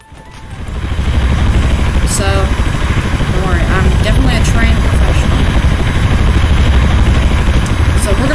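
A helicopter in the Teardown video game flies with a loud, steady rotor and engine roar that swells up early and holds throughout, while someone talks over it.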